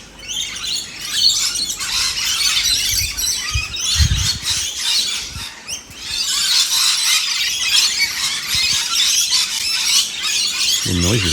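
Dense, busy calling from a group of ducks at a pond bird bath, continuous chattering and squeaky calls layered together, fairly close and steady throughout.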